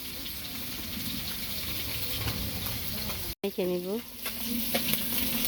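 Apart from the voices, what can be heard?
fish frying in a pan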